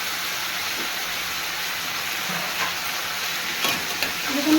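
Coriander powder and ginger frying in a pan, a steady hissing sizzle heard close up with light scraping of stirring now and then, getting a little louder toward the end.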